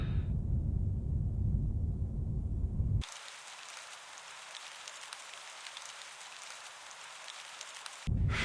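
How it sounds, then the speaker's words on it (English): Steady rain in the video game Her Majesty's Spiffing, a continuous hiss that cuts in sharply and holds evenly for several seconds before stopping abruptly, with no talk. "Why does it always rain in England?"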